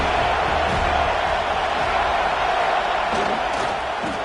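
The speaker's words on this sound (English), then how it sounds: "This crowd ready to make its presence known." A football stadium crowd sends out a steady, dense roar with no breaks, loud and spread wide, and no clear voices stand out.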